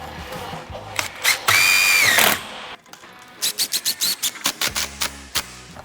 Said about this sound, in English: So just keep screwing it in.